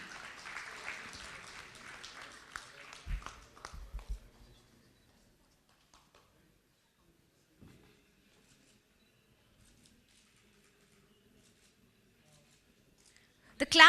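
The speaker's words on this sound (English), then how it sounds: "The claps should continue." Audience applause at a GEN NEXT awards event, scattered clapping for several seconds that thins out and stops, followed by near silence with a few faint knocks and a sudden loud burst at the very end.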